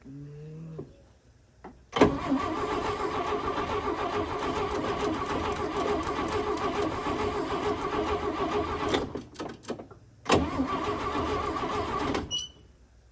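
A 1956 Chevy 210 that has sat for 25 years and may be flooded is cranked by its starter. It gives a long, steady, loud whirring crank, a brief pause, then a second crank that runs for about two seconds without catching.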